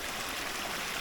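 A steady hiss of spring water flowing at a rural waterhole in Jamaica, like a small stream running close by, continuous and even.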